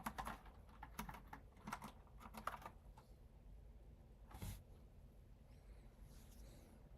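Quiet, close typing on a computer keyboard while coding, irregular bursts of key clicks with short pauses and one louder thump, over a faint room hiss with no talking.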